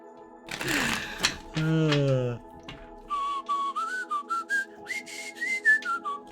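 A person whistles a short, bouncy tune in clipped notes, preceded by a couple of brief vocal sounds; close and fairly loud.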